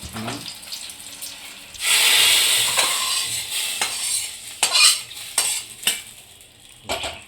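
A fried tempering is poured into a pumpkin and potato dal, bursting into a loud sizzle that slowly fades, followed by repeated scraping and clinking of a spoon against the pot.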